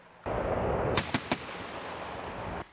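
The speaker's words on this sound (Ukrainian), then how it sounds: "Гвардійці переходять у наступ за піхотою, важка артилерія і БТРи." Heavy artillery fire during a National Guard open-field training exercise in Lviv region alongside infantry and armoured personnel carriers: a loud rushing roar opens, three sharp cracks follow in quick succession, and the roar trails off to a final snap.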